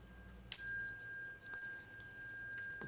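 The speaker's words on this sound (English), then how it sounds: "break out my bell one more time" A handheld meditation bell is struck once during a Buddhist sutra lecture on the Avatamsaka Sutra, giving a sharp bright strike that rings on with a long, slowly fading shimmer in a quiet room.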